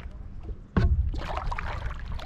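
A paddle strikes the water once in a sharp splash during one-handed paddling on a stand-up paddleboard in a marina, followed by soft swishing and dripping water.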